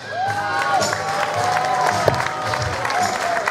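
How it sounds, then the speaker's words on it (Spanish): A crowd at an awards ceremony and closing of an urban youth festival applauds and cheers for a teacher, dense clapping with whoops and shouts mixed with a sustained tonal sound. "Un aplauso para Laura Benítez"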